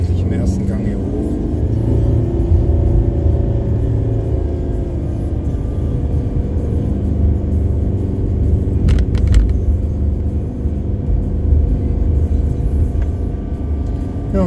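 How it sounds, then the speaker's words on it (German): A car grinds uphill in first gear on a road past sugarcane fields, heard from inside as a loud, steady low engine drone and rumble with a brief knock partway through, under a man's speech. "Muss ich tatsächlich im ersten Gang hier hoch."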